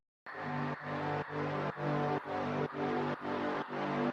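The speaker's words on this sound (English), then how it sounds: "so I dragged in a texture sample and a low drone sample which sound like this" A texture sample layered with a low drone sample in an electronic music drop, a dense sustained wash with a deep bass floor, pulsing in regular dips about every half second, loud and continuous.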